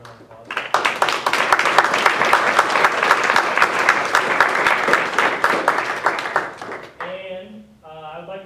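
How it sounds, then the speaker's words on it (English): Enthusiastic applause from an audience at a student government senate meeting, a dense wash of many hands clapping that swells quickly, holds steady for about six seconds, then fades as a voice begins speaking. "give her a round of applause"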